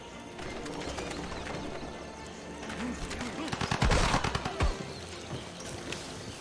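Cannon fire in the strategy video game Civilization V: a run of rapid booming shots clusters mid-clip over a steady game soundtrack with bird-like ambience.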